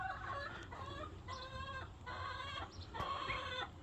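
Chickens clucking close by alongside an Americana rooster, a series of short nasal calls and drawn-out squawks in repeated bursts over a quiet farmyard background.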